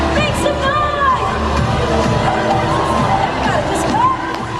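Theme park crowd at a Universal Studios Singapore street show cheering, whooping and shouting together, with children's high shrieks rising above a loud, continuous wash of voices.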